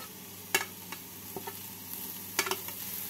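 Carrot and chopped coriander for paneer cutlets stirred in a pan over a soft continuous sizzle, with a few sharp scrapes and taps of the spoon, no talking.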